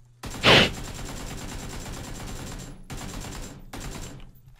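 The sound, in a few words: gunfire in the video game PUBG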